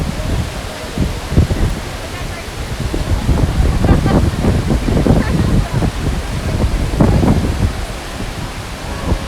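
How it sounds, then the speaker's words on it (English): A waterfall on a hiking trail in Utah gives a steady, loud broadband rush that fills the whole clip, with some low rumbling bursts that sound like handling or wind on the microphone. "There's the waterfall."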